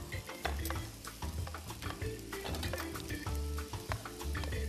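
Onion and carrot are stirred together as they fry, and a spoon scrapes the pan again and again over a constant nearby sizzle. A low steady hum sits beneath it and nobody speaks.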